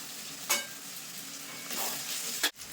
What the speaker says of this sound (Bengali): এবার দিয়ে দেবো এখানে জিরে ধনে আর শুকনো লঙ্কা বাটা